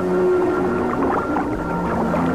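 Fish call noisily underwater to court a female, a dense chorus of tonal grunts and warbling moans that stays loud and continuous against a murky underwater background.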